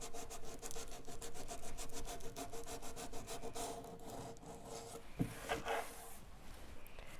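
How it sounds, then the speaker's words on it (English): Hand sanding lightly distresses a chalk-painted wooden bathroom pedestal, a steady quiet rhythmic scraping and rubbing with rapid back-and-forth strokes, close and alone. "So I will just subtly distress this."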